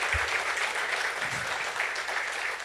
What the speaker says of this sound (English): I'd like to ask you to give them a round of applause for all the hard work they've done